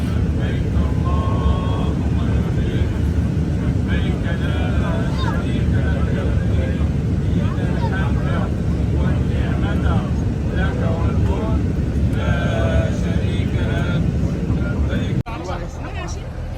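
Steady, loud broadband roar of an airliner cabin in flight, with a murmur of passenger voices mixed into the constant engine and air noise until it drops off near the end.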